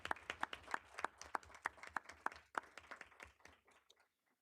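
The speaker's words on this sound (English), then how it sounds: "round of applause" Applause at a Michigan State University Board of Trustees meeting, a string of distinct, fairly quiet claps from a modest audience in a room, fading out over about four seconds.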